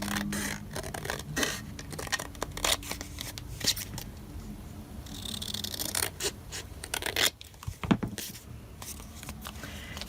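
Vintage Christmas card paper being trimmed up close, with soft scraping and cutting strokes and intermittent handling rustles, fairly quiet and continuous.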